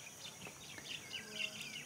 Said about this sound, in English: you have the birds, the cockerels crowing